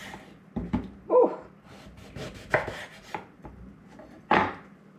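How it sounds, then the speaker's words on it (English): Knife chopping horseradish root on a cutting board, a series of irregular sharp chops and thuds, close and fairly quiet, with no talking. "I'm going to chop up my horseradish root."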